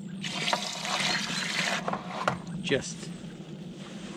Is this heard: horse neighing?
no